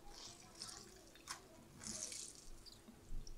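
Soaked gelatin sheets being drained by hand, giving faint, brief trickles and drips of water in a quiet kitchen, with soft splashy bursts at intervals.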